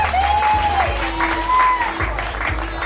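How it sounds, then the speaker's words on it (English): Dense audience applause at a charity fundraiser stage show, a steady wash of clapping with crowd noise and a few whistles or tones rising above it. "give yourself a round of applause for being here on a Thursday night"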